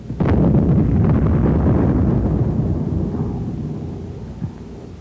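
An 81 mm mortar high-explosive shell with a delay-action fuse detonating, one deep booming blast that rolls and rumbles out over several seconds before fading, loud and alone.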